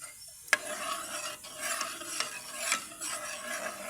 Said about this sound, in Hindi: तड़का तैयार हो रहा है।